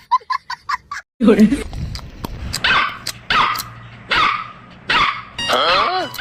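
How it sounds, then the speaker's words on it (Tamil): A puppy barks again and again in a string of short, high yips and whimpering barks, loud and close, with people talking between and over the barking. "ஏன்டா பப்பி கத்திக்கிட்டே இருக்கு?"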